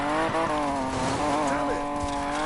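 A car drifts in the video game Need for Speed Payback, its engine whining at high revs with shifting pitch while tires squeal continuously through the slide, loud and close.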